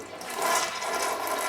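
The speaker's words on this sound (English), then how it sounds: "whether when it's flushing it actually makes little droplets and vapor that go everywhere" A toilet flushes with a loud, close rushing and swirling of water that holds steady for the whole short stretch, with no voices.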